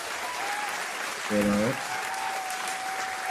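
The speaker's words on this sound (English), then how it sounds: "And of course, a big round of applause to Jereme Richards." Applause with scattered cheering rises briefly over a steady murmur of a crowd, fading back to background noise after a couple of seconds.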